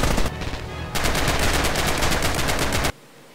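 A mounted machine gun in Red Orchestra fires a sustained, rapid burst of evenly spaced shots, loud and close, after a brief preceding shot, then cuts off abruptly into quiet.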